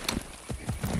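Quick hoofbeats in Far Cry 6 clop in an uneven gallop rhythm, close and fairly loud, a few strikes in a single second.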